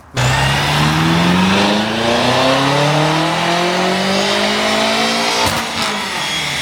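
A tuned BMW G80 M3 engine, about 1,000 horsepower, revs up hard and loud, pitch climbing steadily through the gears with a throaty roar, close by and with no talking.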